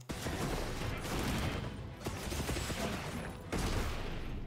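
Gunlance shelling blasts and wyvern stake strikes from Monster Hunter Wilds come as dense, loud, continuous explosive bursts and crackle, with sharp hits around the middle and near the end.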